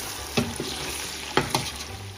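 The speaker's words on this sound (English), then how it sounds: "Add 500 grams of diced potatoes, 300 grams of carrots, 1 tablespoon of salt, and saute for 2 minutes." Diced potatoes and carrots with salt sauté in a pot, a steady frying sizzle broken by two or three brief scraping stirs close by, with no talking.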